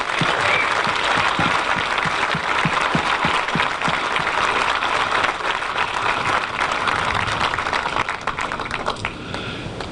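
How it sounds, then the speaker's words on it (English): Sustained applause from a large audience at the Sanford International golf tournament opening ceremony, steady dense clapping that fills the whole stretch and tapers slightly at the end. "Let's give her another big round of applause."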